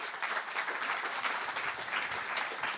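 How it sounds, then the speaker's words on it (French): Audience applause at a science talk on dark matter at the Paris-Saclay Summit, a steady dense clapping from a sizable crowd throughout, with no one speaking. "On vous applaudit à nouveau."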